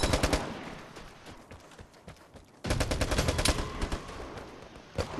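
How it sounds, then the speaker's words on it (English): FG-42 gunfire in the video game Vigor: sharp automatic bursts crack out at the start, fade into a quieter stretch, then a loud sustained volley erupts and continues, with a final distinct shot near the end. "I do not see where I'm being shot from. There's an FG-42 somewhere."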